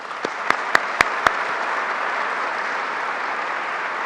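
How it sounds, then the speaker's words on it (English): A crowd applauding county legislators at a groundbreaking event for a Greater Rochester project, a broad steady roar of clapping with a few sharp, distinct claps near the start, then holding even to the end. "Let's give them all a round of applause."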